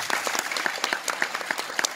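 An audience at a motivational show applauds the mothers from quarter-neighbourhood communities with dense, steady clapping from many hands, close and lively for a couple of seconds.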